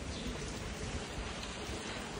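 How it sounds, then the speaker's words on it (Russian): Rain falling outdoors in Germany, a steady, even hiss of drops that holds at a constant low level throughout, with no voices. "Я обожаю дождь."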